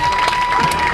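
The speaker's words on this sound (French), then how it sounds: "Alors on peut les applaudir." Crowd applause with scattered cheers at a horse festival in Cuges after a rider's demonstration on her horse, steady and fairly loud throughout, with a faint steady tone running underneath.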